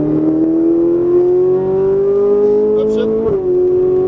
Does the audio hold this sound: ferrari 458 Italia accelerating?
yes